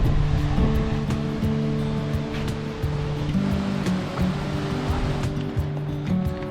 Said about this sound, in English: I can hear a waterfall